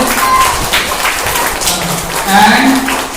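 An audience applauds the class 1 winner of a school spelling bee contest with a steady wash of clapping, and voices carry over it.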